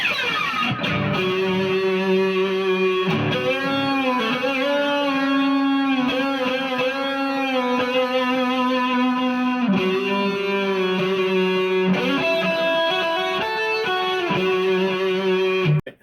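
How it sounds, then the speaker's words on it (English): Electric guitar through a Musiclily mini delay pedal with distortion plays a sustained melodic line, notes ringing and overlapping, loud and continuous throughout. "if you want to add a little bit of distortion to that"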